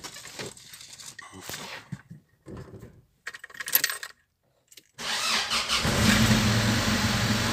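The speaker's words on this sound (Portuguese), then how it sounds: "Vou ligar o carro e vamos dar umas aceleradas aí," A Chevrolet Vectra engine with a blown muffler is started after its fuel injectors were replaced: clicks and cranking, a brief quiet, then the engine catches and runs loudly with a rough, strong idle rumble close by.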